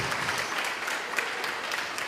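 A church congregation claps for Jesus during a worship service, a dense and steady wash of many hands filling the hall at moderate loudness, with no voices over it.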